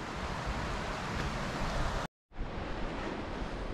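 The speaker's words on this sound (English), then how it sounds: "This water's flowing right out of the lake, all this water that we've been walking by." A mountain stream flowing out of Consultation Lake rushes in a loud, steady broadband wash, cut by a brief dropout before it resumes at the same level.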